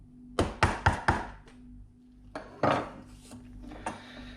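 A chisel cuts into a knife line in wood, with a quick run of four sharp taps followed by a few more spaced knocks and scraping cuts, close and clear in a quiet workshop.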